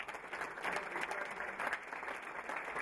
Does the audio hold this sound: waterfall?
no